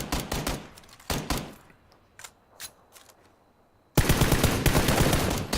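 PUBG gunfire rattles out in rapid bursts, then thins to a few scattered shots before a loud, dense stretch of continuous automatic fire resumes.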